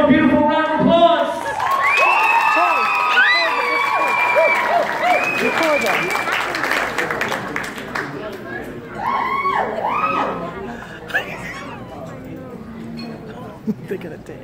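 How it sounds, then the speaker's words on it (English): A crowd applauds and cheers steadily, with whoops and shouting voices over the clapping, loud and close, continuing throughout. "Give them a beautiful round of applause."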